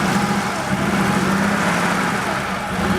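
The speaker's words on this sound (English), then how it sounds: "The idle on the car is too high, and you can hear it's kind of moving around a little bit as well" A Porsche 3.2 Carrera engine idling too high and unsteady, a continuous close, loud mechanical hum and whirr whose pitch wavers slightly, with no break across the whole stretch.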